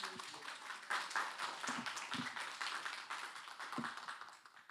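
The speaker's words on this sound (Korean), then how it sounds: "우리 박수." A church congregation gives a short round of applause at a Sunday service, fairly quiet and scattered, with individual claps standing out against a softer wash of clapping.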